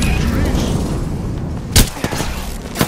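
Gunfire in the video game Apex Legends: a few sharp bursts and booms over a continuous, loud, dense background of game noise.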